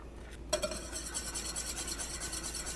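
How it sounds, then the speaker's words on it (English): A whisk rasps and scrapes against a pot of thickening custard for banana pudding, starting abruptly and carrying on as a fast, steady rhythmic scraping close by. "I'm going to take my whisk and just keep whisking along for a few more minutes until it's nice and thick"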